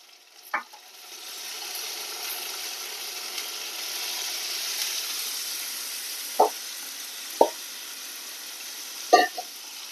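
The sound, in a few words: water added to frying pointed gourd and prawn curry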